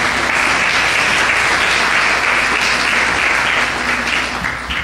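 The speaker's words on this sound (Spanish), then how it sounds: "Denle un fuerte aplauso al Rey, que Él vive." A church congregation claps loudly and continuously for several seconds, a dense sustained wash of applause that eases slightly toward the end.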